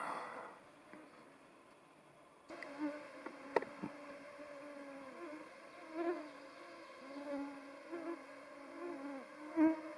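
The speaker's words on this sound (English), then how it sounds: "Yeah, there's a few insects around, but I'm not sure if these mosquitoes or not." Flying insects buzz loudly near trees in a forest clearing where bark is being peeled, wavering drones passing close and fading repeatedly over a quiet background.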